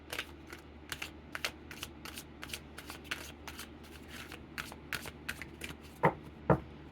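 Oracle cards are shuffled in a steady run of soft, closely spaced flicking and slapping sounds, close but quiet, ending in two slightly sharper snaps.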